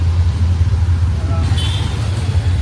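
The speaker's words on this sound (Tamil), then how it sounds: "இந்த வெஹிக்கல் நாய்ஸ்னால நான் எதுவும் கேப்சர் பண்ண முடியல" Road traffic in a heavy jam at night, a steady low rumble of idling cars, buses and trucks close by, with a faint higher engine whine partway through.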